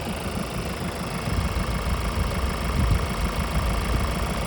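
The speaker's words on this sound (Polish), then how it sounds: "Jeżeli chodzi o pracę silnika, równo, cicho, po prostu tak jak już powinno." Ford S-Max with a 2.0 190 hp engine running at idle, a steady, even mechanical hum with a faint rhythmic knock, close and continuous with no speech.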